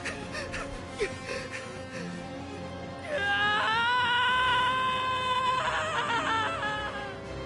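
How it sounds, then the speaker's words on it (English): A video game character screams while retreating: a loud, sustained wailing cry that rises and wavers over several seconds, following quieter game sounds and effects. "you don't have to scream while retreating"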